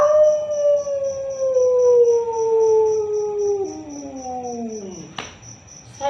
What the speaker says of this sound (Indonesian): Kemudian lolongan anjing berbunyi